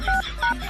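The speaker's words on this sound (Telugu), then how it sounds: "ఎవరు అదే ఫోన్ అరుస్తుంటే ఎత్తకుండా?" A phone gives short repeated electronic tones, two quick bursts in under a second, loud and close with no voices.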